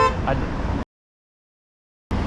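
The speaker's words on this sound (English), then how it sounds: "why are you honking?" A car horn honks at an electric unicycle rider on a bicycle path: a short, loud, tonal blast amid traffic noise, then an abrupt cut to silence before the street sound returns.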